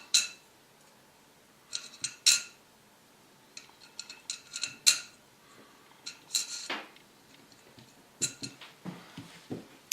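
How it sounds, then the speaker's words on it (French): Small metal nuts clink and rattle against each other and a hard surface in scattered bursts while a MiniCut2D+ kit with wooden parts is being assembled, close and fairly quiet, with pauses between clusters of clicks. "Maintenant, on va mettre 3 écrous d'un côté,"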